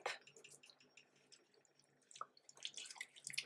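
Face being rinsed with water during a skincare routine: faint, close splashing and dripping in soft bursts, quieter in the middle and busier toward the end, no talk.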